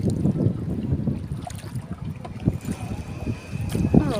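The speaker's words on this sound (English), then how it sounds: "hear me over the wind" Wind rushes across the microphone while a rowboat is rowed on open water, with gusty low-frequency buffeting, splashy oar strokes and a faint voice in the background.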